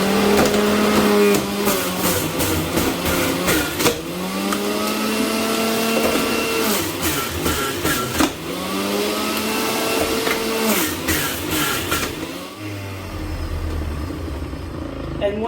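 A juicer machine grinds kiwi and celery with a loud, steady motor whine that shifts pitch in several surges, then drops into a lower hum near the end.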